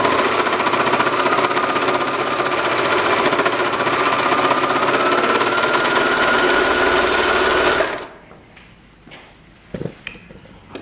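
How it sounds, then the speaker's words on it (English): Serger trimming and overlocking the raw fabric edges of a sewn face mask, a loud steady mechanical whir for about eight seconds before it stops, followed by a few faint handling clicks. "I'm going to take it to the serger and just clean up those little raw edges"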